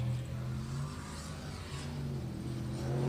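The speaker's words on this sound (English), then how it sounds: "I always really enjoy the sound of this boat, Scott" A racing boat's engine roars steadily at a distance during a qualifying run in pro boat racing at Port Angeles, a sustained low drone with slight swells in pitch and no talking.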